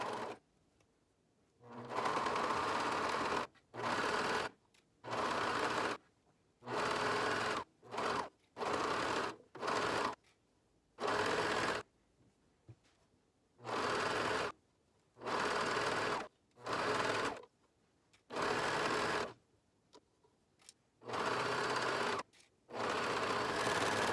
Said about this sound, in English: So now I'm gonna go and I'm gonna stitch all the way down